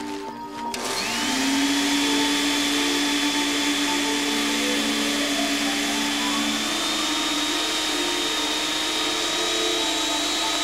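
A vacuum cleaner switches on after a brief pause and runs steadily and loudly as a whining motor drone during a circus sideshow stunt performance, holding a constant high-pitched tone throughout.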